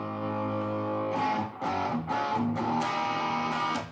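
Electric guitar played through a Nolatone tube amp, a sustained droning chord giving way to several distorted strummed chords and short bursts, loud and close with no talking.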